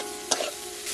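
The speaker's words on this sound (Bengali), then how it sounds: "এবার আমি এতে দিয়ে দেব রসুন বাটা" Garlic paste fries in a pan of oil while a spatula stirs it, a brief steady hiss broken by one scraping burst, close and without talk.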